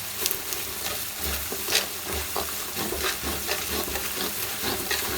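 Whole spices and bay leaf frying in a pan while being stirred, a steady close sizzle and hiss with repeated scraping and stirring strokes throughout, no talk.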